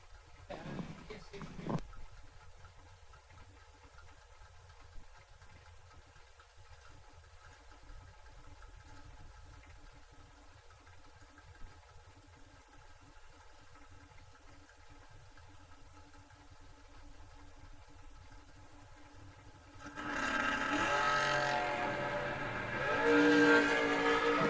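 A drag racing car with a Chevrolet 350 engine idles in a long, steady low rumble, then bursts into a loud, rising roar near the end as it launches down the strip at a Saturday drag meet.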